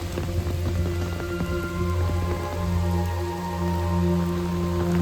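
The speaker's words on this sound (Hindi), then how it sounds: "और भारी बारिश में चलते हुए" Steady heavy rain patters on surfaces at the Krishnabai temple at the source of the Krishna River, with a continuous low hum running underneath throughout.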